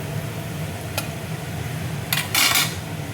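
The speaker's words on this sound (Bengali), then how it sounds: "পেঁয়াজ দেখো ভাজা হয়ে গেছে।" Onions frying in oil for mutton curry give a soft steady sizzle, while a metal spoon clinks and scrapes against the pan a few times, loudest in a burst near the end.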